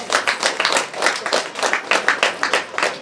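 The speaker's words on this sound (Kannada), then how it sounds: "ಒಂದ್ಸರಿ ಜೋರಾಗಿ ಚಪ್ಪಾಳೆ" Loud, rhythmic applause from an audience at a pyramid opening ceremony in Ballari, with steady overlapping claps that continue without a break.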